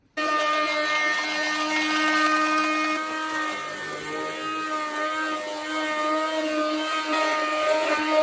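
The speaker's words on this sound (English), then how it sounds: "We're going to use the hand blender mixer to attempt to whip our egg whites." A handheld electric blender mixer whips egg whites in a home kitchen, running steadily for several seconds with a loud, high motor whine and rattling hum that shifts pitch slightly partway through.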